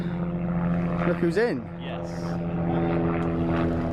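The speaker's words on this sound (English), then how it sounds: "Excuse the helicopter." A helicopter flying over a carp fishing lake at Linear Fisheries gives a continuous engine drone beneath a brief exchange of speech.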